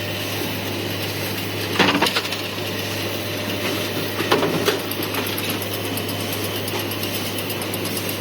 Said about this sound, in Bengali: তিনটা মেশিন সেম কাজ করে। এটাতে খাতার পিন আপ করা হয়, ওখান থেকে পিনগুলো আসে ঘুরতে ঘুরতে।